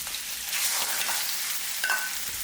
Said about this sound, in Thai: เร่งไฟแล้วก็ใส่กุ้งกับปลาหมึกได้เลยนะครับ เริ่มจาก กุ้งก่อนนะครับ แล้วก็ตามด้วยปลาหมึกนะครับ